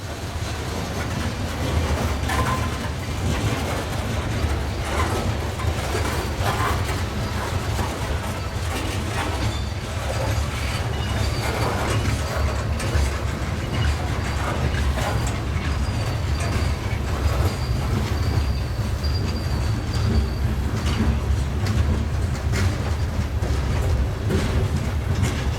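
Freight train cars, including an old NS covered hopper, rolling along welded rail in a rail yard, a loud continuous rumble with occasional wheel squeal and faint clacking, steady throughout without speech.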